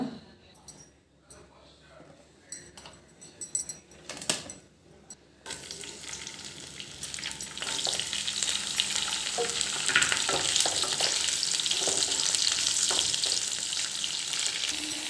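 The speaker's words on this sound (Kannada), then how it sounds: "ಈಗ ಅದಕ್ಕೆ ಈರುಳ್ಳಿ ಕರಿಬೇವು ಹಸಿಮೆಣಸಿನ್ಕಾಯಿ ಹಾಕಿ ಫ್ರೈ ಮಾಡ್ಕೊಳ್ಳೋಣ" Onions, curry leaves and green chillies frying in a pan, starting with clinks and stirring and building to a loud, steady sizzle.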